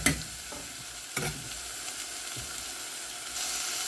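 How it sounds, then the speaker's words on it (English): Mixed vegetables sautéing in a pan, a soft steady sizzle with a few clinks of stirring, close and quiet. "Now again I'll just saute all these sabzis first."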